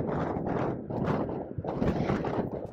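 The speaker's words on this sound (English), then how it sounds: "It is really windy outside" Strong wind buffets an outdoor microphone in loud, rumbling gusts that swell and drop every second or so, harsh and close, with no voices.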